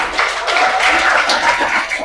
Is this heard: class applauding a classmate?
yes